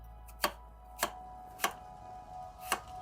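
Nakano kitchen knife slicing through a Twinkies dessert, four sharp separate chops spaced about half a second to a second apart, close and crisp with no talking.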